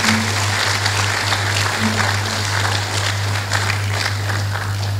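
Audience applause for the chairman at a tenth-anniversary event and foundation launch, a steady dense wash of clapping over a constant low electrical hum.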